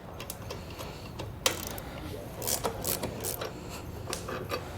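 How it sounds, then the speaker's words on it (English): A socket and wrench loosening the top shock absorber bolt on a Trailair 5th wheel pin box, giving faint, irregular metallic ratcheting clicks and sharp ticks, with one louder snap near the start. "we're going to loosen and remove this top bolt here for our shock absorber"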